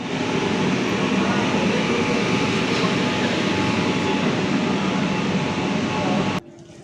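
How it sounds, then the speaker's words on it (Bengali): A Kolkata metro train pulls out of Maidan underground station, a loud steady rumble and roar filling the platform for about six seconds before dropping off abruptly to quieter ambience. "একটু আগে আমাদের ট্রেন ছেড়ে দিল"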